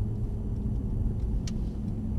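A Mercedes-AMG car braking gently on a track, heard from inside as a steady low engine and road rumble with no sharp squeal, slowing smoothly throughout.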